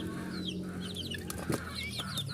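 Chicks chirping close by, high thin peeps in quick repeated bursts over a steady background hum from a poultry brooding area, with some soft clucks from nearby birds.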